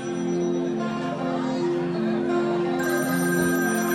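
A telephone rings steadily and continuously, loud and close, over a busy background of music or crowd noise during a live event.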